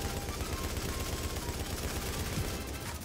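Dense, continuous automatic gunfire in the shooter game The Division, rapid shots blurring into an unbroken rattling roar that stays loud and even from start to finish.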